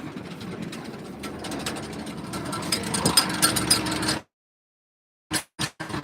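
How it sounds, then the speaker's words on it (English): New Holland 1411 Discbine mower running with a rattle, a busy metallic clattering drone for about four seconds that cuts off abruptly, then a few brief knocks. "You can hear a little bit of rattling in here."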